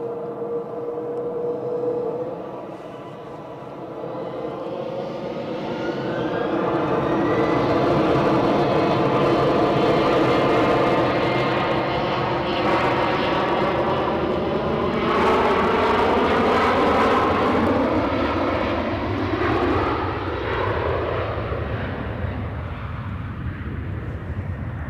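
Fixed-wing airliner taking off at Edinburgh airport, its engine roar building from a steady whine into a loud, sustained broadband rush that holds near and powerful for the rest of the clip.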